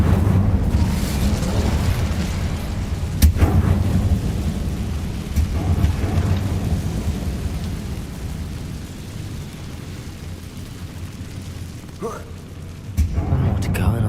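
Incendio fire spell cast in the Hogwarts Legacy video game, a low rumbling, roaring burst of flame with sharp cracks, sustained over several seconds and fading, with game ambience beneath.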